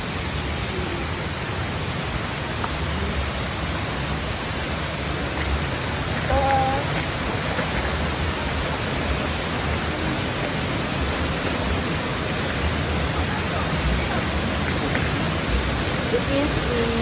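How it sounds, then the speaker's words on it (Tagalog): Uriwari Falls waterfall in Japan, cascading water making a loud, constant broadband rush that fills the whole span, with faint talk barely showing beneath. "This is the Uriwari Falls, known as cascading waters that remain cool throughout the year."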